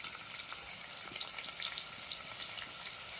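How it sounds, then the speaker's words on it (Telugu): Green chillies sizzle steadily in hot oil in a pan while drumstick and tomato curry is being cooked, a continuous close crackling hiss with faint stirring. "ఇక పచ్చిమిర్చి వేస్తున్నా. వేసేసి అట్లా వేస్తున్నా."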